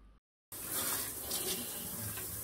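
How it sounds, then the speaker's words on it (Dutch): A shower runs while hair dye is rinsed out. A short bit of sound gives way to a brief silence, then water rushes and splashes steadily and close. "Ja, lekker onder een douche."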